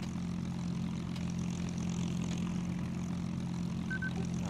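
Steady propeller-driven fighter plane in a VR dogfight game, a continuous low engine drone with airscrew buzz holding constant throughout as the aircraft begins its takeoff run.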